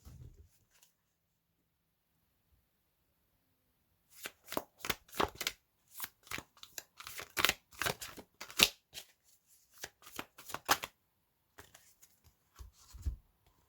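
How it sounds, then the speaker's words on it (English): Tarot cards being shuffled by hand: a long run of crisp, riffling flutters in quick succession after a quiet start, close and moderately loud, with a few more bursts near the end. "Let me see if I can get 3 shuffles out before it starts spitting cards at me"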